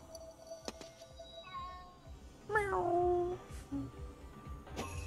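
A cat meows in the video game Ghostwire: Tokyo, a clear drawn-out meow with a rising then falling tone standing out over steady game ambience, preceded by a fainter shorter mew.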